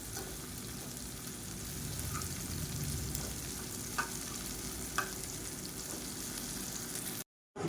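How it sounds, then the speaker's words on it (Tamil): Raw banana slices fry in a pan with a steady, close sizzle, occasional soft clinks and scrapes as they are turned, and a brief drop to silence near the end. "இந்த மாதிரி அப்பப்போ திருப்பி விட்டு நல்லா மொறுன்னு வர அளவுக்கு வேக விட்டு எடுத்துக்கலாம்"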